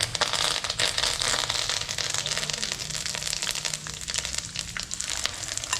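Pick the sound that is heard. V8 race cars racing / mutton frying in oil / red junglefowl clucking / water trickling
mutton frying in oil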